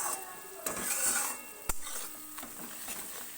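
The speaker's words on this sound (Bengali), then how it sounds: "একটুখানি মশলাটাকে 1 মিনিট মতো একটু কষাতে হবে" Spice paste for Bengali chicken curry frying in a pot, a faint soft sizzle under the scrape and clink of a spoon stirring, with a few sharp metallic knocks against the pan.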